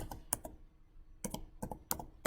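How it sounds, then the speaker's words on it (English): Bursts of computer keyboard typing while entering a command in AutoCAD, several quick clustered keystrokes separated by short pauses, close and fairly quiet. "now we are going to type tracking"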